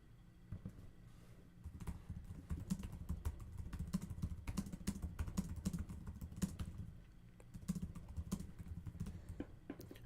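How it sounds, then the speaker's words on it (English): Soft, continuous clatter of a computer keyboard being typed on, with irregular quick keystrokes and brief pauses, fairly quiet and close. "I'm typing in Discord"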